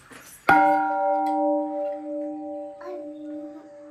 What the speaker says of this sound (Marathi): ही देवडे आहेत आणि घंटा आहे ज्यात लोखंडी लोळक लावलाय.